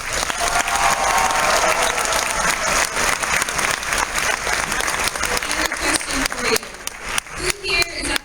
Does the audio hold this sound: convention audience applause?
yes